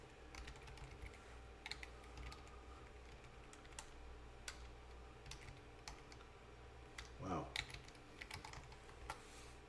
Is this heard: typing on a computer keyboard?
yes